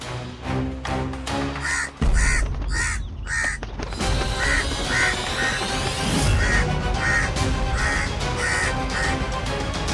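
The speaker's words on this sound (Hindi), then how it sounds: "कौवा पुरुष" A crow caws over and over in an even, repeated rhythm, loud and near, set against dense dramatic music from a mythological TV serial.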